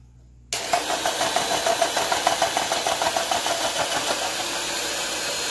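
A Presto electric grater slicer runs while slicing carrots in a kitchen, its motor switching on abruptly into a steady mid-pitched whir with rapid rhythmic chopping pulses, close and continuous without talk.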